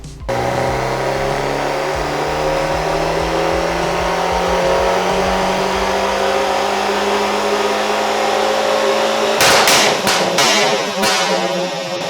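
A turbocharged car on a rolling road dyno, its engine climbing steadily in pitch through a long, loud full-throttle run, then lifting off with several sharp pops and crackles as it winds down.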